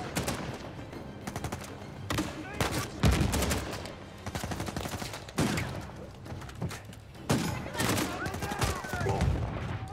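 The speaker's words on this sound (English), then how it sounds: "Alright, grenade launcher time." Grenade launcher fire in the game Uncharted 4 amid a firefight: several heavy thumping shots and bursts of gunfire break out at intervals, loud and close, with talk in between.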